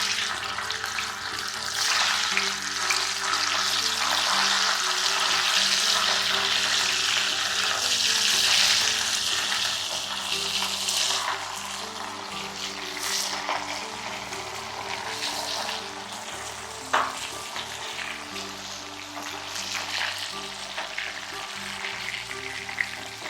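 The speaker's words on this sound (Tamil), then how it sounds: "இப்போ இந்த உருளைக்கிழங்கு நம்ம பொரிக்க ஆரம்பிக்கலாம்" Steady sizzling and crackling of potatoes frying in hot oil, loud and continuous throughout, with occasional clinks of a utensil stirring.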